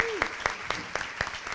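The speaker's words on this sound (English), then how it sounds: "Another round of applause for Joan" Scattered audience clapping at a philanthropy talk, a few distinct sharp claps spaced out over a second and a half, fairly close, with a brief voice sound near the start.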